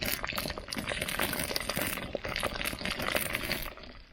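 Hot oil sputters and spits from the side of a pie iron of hot wings over a campfire, a steady, close sizzling with rapid crackles and pops.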